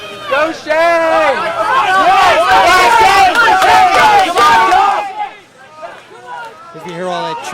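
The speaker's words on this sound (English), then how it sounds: "If you hear all that cheering in the background, that's actually Clackamas runners." A crowd of cross country runners shouts and cheers loudly at a Mount Hood Conference/PIL crossover race, with many overlapping voices in a sustained roar that fades away, then a quieter stretch of scattered calls.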